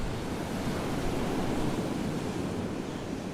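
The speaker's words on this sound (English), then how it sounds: "he recorded a whole hour of uninterrupted ocean sound in hi-fi stereo" Steady ocean surf in a long uninterrupted stereo recording, a dense broadband wash of waves rolling without pause, even and moderately loud throughout.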